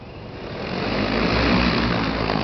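An XAG P150 agricultural spray drone carrying roughly 70 litres of liquid flies with a steady, loud rotor drone that swells slightly and holds, with no talking.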